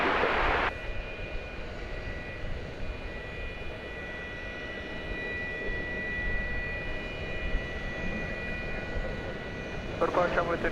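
An American Airlines jet airliner at DFW Airport gives off a steady, loud engine roar that holds for about ten seconds with a faint whine layered over it.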